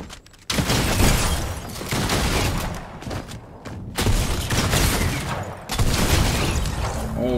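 Rapid bursts of primal shotgun fire in Fortnite, booming shots repeating in quick clusters with brief gaps, loud and close, with other game effects mixed in.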